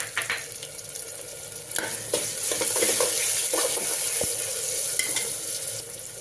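Onions and tomatoes fry in a pan for a Dharashiv-style mutton rassa curry, a steady close sizzle broken by frequent scrapes and clinks of stirring, with no voices.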